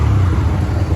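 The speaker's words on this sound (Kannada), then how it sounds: "ಎಕ್ಸಾಸ್ಟ್ ನೋಡಿ ಕೇಳಿಸ್ಕೊಳ್ಳಿ ಹೇಗಿದೆ." A top-end Bajaj Freedom CNG motorcycle runs on CNG, its exhaust giving a brief close, loud, steady engine rumble.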